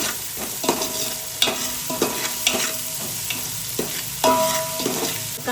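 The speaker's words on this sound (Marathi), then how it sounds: "कांदा थोडा परतलाय" Onion sautéing in a pan for dalcha, a steady oily sizzle broken by regular scraping strokes of a spoon stirring, close and alone with no voices.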